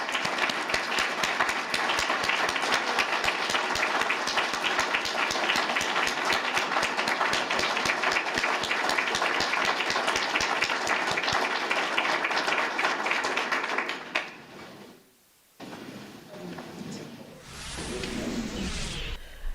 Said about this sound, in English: let's please give a round of applause to our new Chief of Police, Jonathan Thomas